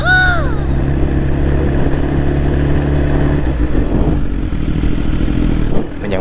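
A big bike motorcycle ridden with a passenger on the back, its engine a loud steady drone with wind rush, a brief rising whine near the start, and someone talking over the noise.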